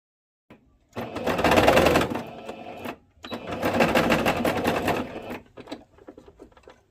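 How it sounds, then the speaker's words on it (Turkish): A domestic sewing machine set to straight stitch runs a seam on an elastic-waist skirt, two loud sustained bursts of rapid stitching separated by a short pause, with no talking. "Makineyi düz dikiş konumuna alıyorum."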